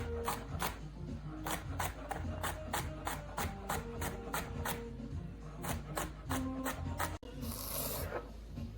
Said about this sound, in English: I'm just continuing to cut through the celery.